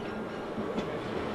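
A scenic railway train on the 61-mile run to Crawford Notch rolls along steadily, with a faint continuous rumble and soft wheel clatter heard from inside the carriage.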